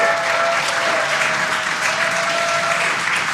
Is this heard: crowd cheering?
yes